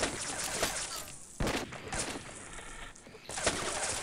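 Gunfire in the co-op shooter Half-Life: Sven Co-op: several rough bursts of shots separated by short gaps, fairly quiet and muffled.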